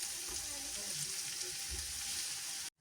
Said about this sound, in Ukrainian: Тепер, коли в нас підсмажилося і вже там так рідина та, що була з кабачків, вже висмажилась